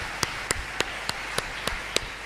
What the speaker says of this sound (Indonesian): Tepuk tangan saudaraku